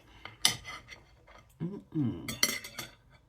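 A knife cuts a Chicago Town chilli pepper crust deep dish pizza with nduja into quarters, making sharp clinks and scrapes of metal on a plate in a few short bursts, close and quiet, with no talk.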